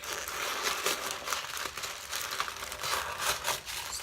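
Paper packing from a clothing haul crinkles and rustles continuously close by, a steady, fairly quiet stream of crackling handling noise with no talking.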